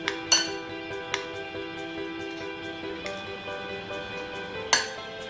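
A utensil mixes ground Oreo biscuits with baking powder in a bowl, striking it with several sharp clinks spaced apart over quiet, soft scraping.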